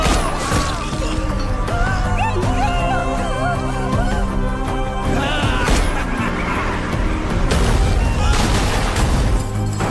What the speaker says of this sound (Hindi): एक ही तो गोली चली है